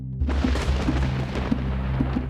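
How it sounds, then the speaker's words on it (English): Thunder from a lightning strike rolls as a loud, continuous rumble across the whole stretch, with several sharper cracks and booms breaking through the steady roar. "Around the world, lightning strikes on average 100 times a second."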